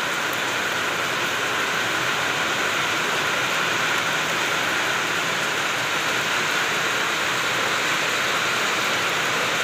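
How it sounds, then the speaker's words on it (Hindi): Heavy nighttime rain pours steadily in a dense, continuous roar with no breaks, loud and close throughout. "बारिश देखो कितनी तेज हो रही है।"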